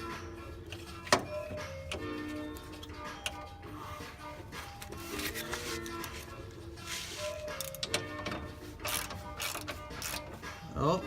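A ratchet wrench tightens a bolt on a Pontiac GTO steering rack, giving rapid close clicking pawl bursts in short repeated strokes, with faint mechanical clatter in between.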